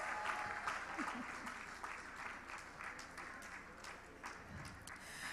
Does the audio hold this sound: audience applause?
yes